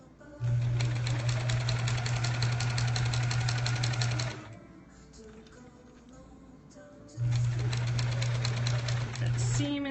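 A sewing machine stitches a seam on a quilt block in two long steady runs of loud even motor hum, with a quiet pause between them where soft handling of the fabric can be heard.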